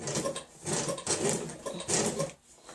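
A sewing machine stitches fabric in short bursts, a close mechanical whir and rapid clatter that starts and stops about four times as the fabric is guided around a curve.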